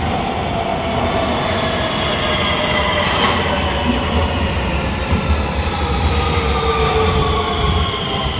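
A metro train rolls into a station in Nuremberg, Germany, its steady loud rumble and rail hiss filling the platform for several seconds, with faint wheel squeal riding over the continuous roar.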